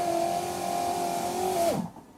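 Electric power window motor raising the glass in the door of a 2007 Ford Fiesta, a steady whining hum for under two seconds that dips in pitch as the pane reaches the top and stops.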